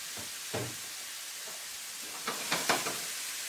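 Vegetables go into a hot skillet over a faint, steady sizzle, with a few scattered scrapes and bumps early on and a brighter cluster of sputtering bursts near the end, all quiet and close with no talking.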